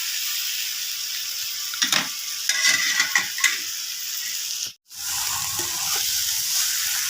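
Egg and potato frying in hot oil, a steady loud sizzle with clinks and scrapes of stirring in the middle, a brief cut-out of sound, then the sizzling resuming alone.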